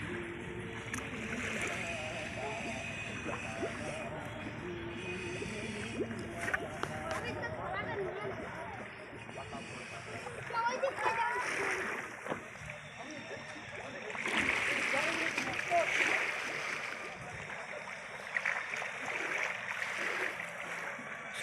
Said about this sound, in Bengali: সুন্দর ঢেউ হচ্ছে, জাহাজ গেলে আরো সুন্দর সুন্দর ঢেউ আসে